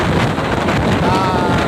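Strong wind buffets the microphone in a dense, roaring rush outdoors in a downtown street in Calawag province, loud and unbroken throughout.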